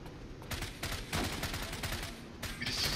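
Gunfire in the online shooter Zula, with a series of sharp, loud shots and bursts in close succession filling the whole stretch, and no talking.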